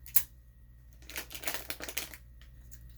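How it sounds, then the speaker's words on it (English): Adhesive tape is pulled off a roll and pressed onto a gift basket tray, giving a few bursts of sticky ripping and crackling, close and alone. "And then we'll tape these 2 things together."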